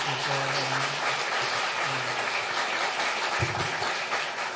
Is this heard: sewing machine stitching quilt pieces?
no